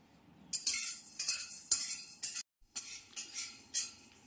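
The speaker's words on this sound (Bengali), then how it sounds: "একদিকে ডিম ফেটানো হচ্ছে" Eggs being whisked in a bowl for French toast sound as a quick series of bright metallic clinks and scrapes, repeated in rhythmic strokes with a short pause midway, close and moderately loud.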